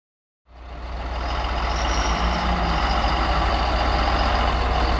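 Heavy John Deere 6920 truck stuck in deep snow, its engine starting up then running in a steady low rumbling drone with a faint higher tone drifting over it, close and fairly loud, no talking.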